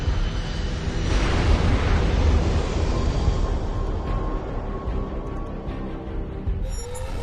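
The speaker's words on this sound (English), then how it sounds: "That explosion was no accident." A large rumbling blast from a plane bomb explosion in the Tom Clancy's HAWX 2 video game fills the mix with dense, loud roaring noise that slowly decays into a lingering drone with a faint tone.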